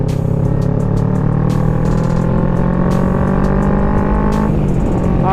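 A loud Kawasaki Versys 650 engine roars and rises in pitch as it pulls away from a standstill, with rushing wind noise and clicks over the top.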